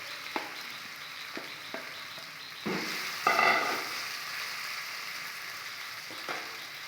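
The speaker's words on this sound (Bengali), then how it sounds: "এটাকে এইভাবে খানিকক্ষণ ভেজে নেব।" Leftover cooked rice and chopped carrots fry in a pan with a steady broadband sizzle, broken by a few sharp utensil taps and a louder stirring scrape midway.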